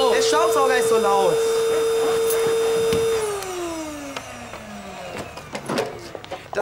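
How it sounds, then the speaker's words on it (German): A loud household vacuum cleaner drones steadily at close range with a strong tonal whine, then winds down as it switches off, leaving faint room noise and brief voices. "Der Staubsauger ist so laut."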